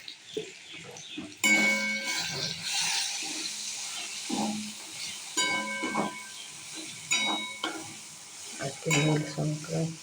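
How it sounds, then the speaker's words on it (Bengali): Tomato and ginger fry in a pan with cumin, turmeric and coriander powder for a kabuli chickpea curry, a soft sizzle broken by repeated metallic scrapes and clinks of a spoon stirring against the pot. "প্রথমে টমেটো আদা কষিয়ে নিয়ে এবারে জিরে গুঁড়ো, হলুদ গুঁড়ো আর ধনে গুঁড়ো"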